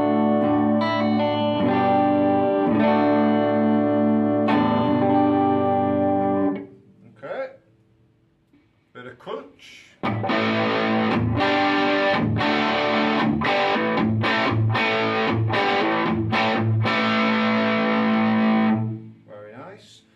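A clean electric guitar through a Boss Katana 100 MK1 amp with no effects rings out in sustained chords, pauses briefly for a few muted plucks, then resumes with rhythmic strummed chords before stopping abruptly.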